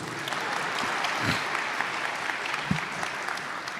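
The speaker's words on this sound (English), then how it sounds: "you can clap for him" Audience applause at an all-conference honor band concert in a school venue: steady, dense clapping from a crowd that holds evenly for several seconds.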